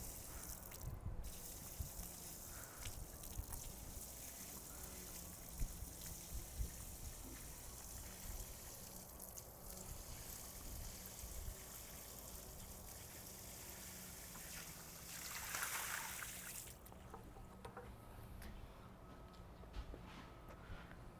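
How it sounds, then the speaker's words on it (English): Water poured onto pervious concrete trickles and seeps in, a faint, continuous wet hiss and dribble that swells briefly near the end before fading, with no talk. "I am now going to pour on this pervious concrete so you can see how quickly it absorbs the water."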